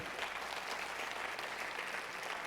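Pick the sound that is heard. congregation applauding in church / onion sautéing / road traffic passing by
congregation applauding in church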